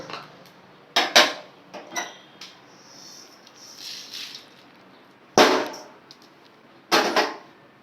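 Black peppercorns dry roasting in a hot pan for Kongu-style kuzhambu chili powder, heard as scattered metallic clanks and rattles with a few sharp, loud bursts between quieter stretches, and no voices.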